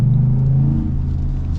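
Ford F-150 Black Ops Edition engine rumbling as the pickup accelerates away, a loud, close, deep low growl that swells briefly and then settles into a steady rumble.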